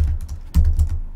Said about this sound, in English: So you can type any number you want, like 200, 200,